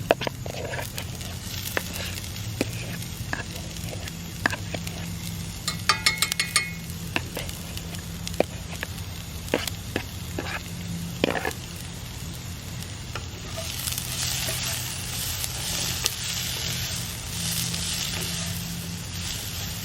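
Burgers fry in a metal pan over a campfire with a continuous low sizzle, broken by scattered clinks and scraping of utensils against the pan, and a brighter, louder hiss swelling toward the end.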